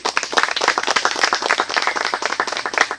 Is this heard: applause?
yes